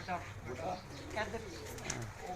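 Pigeons from a fancier's loft coo in soft, rounded phrases, repeating several times under a steady murmur of people talking nearby.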